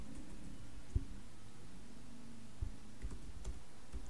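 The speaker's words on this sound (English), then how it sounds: "I typed here" Keys tapped on a computer keyboard while working in a Metasploit console, with a few sparse, quiet clicks over a low background hum.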